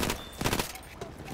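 A quick burst of pistol shots in Battlefield 1, several rapid cracks spread over a second, fairly faint and close together.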